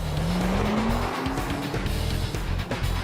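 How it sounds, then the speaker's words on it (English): A car driven very fast and braked hard over and over on a test track, tires squealing in a rising drawn-out screech over steady loud engine and road roar, with no talk. "drive very fast, then hard on the brakes 20 times over 5 laps"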